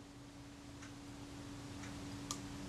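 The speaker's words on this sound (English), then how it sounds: "it's releasing the film advance just before the point where the shutter fires" Faint ticks from a Bessamatic camera mechanism, ending in one sharper release click of the film advance, all close and quiet over a steady low hum.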